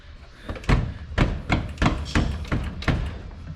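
A series of heavy thuds, about seven in a row at a steady rhythm, as a stuck door that won't open is pushed or banged repeatedly close by in a trailer fabrication shop.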